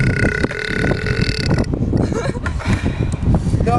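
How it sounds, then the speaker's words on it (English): A long, rough, guttural burp rumbles loudly over several seconds during an outdoor burping contest, with wind buffeting the microphone and other people talking around it. "Burp."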